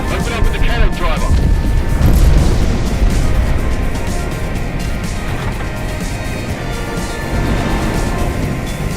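Tank cannon fire in the video game Frontline, loud heavy booms and crashes running continuously under radio-style voice chatter throughout the battle.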